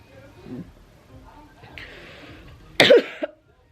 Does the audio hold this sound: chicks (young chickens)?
no